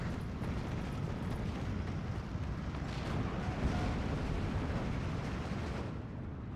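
WWII artillery fire in the strategy video game Steel Division rumbles as a dense, continuous wash of distant booms and crackling blasts at moderate volume, without a clearly separated single shot.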